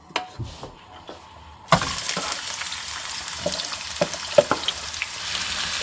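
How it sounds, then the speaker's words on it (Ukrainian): Chopped onion dropped into hot oil in a pan, bursting into a steady frying sizzle with scattered pops and crackles after a quieter start, close and alone with no talk. "Олія в нас нагрілась. І першим ділом що? Першим ділом я викладу цибулю."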